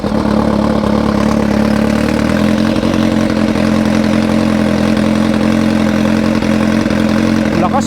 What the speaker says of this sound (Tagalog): Start na natin yung motor.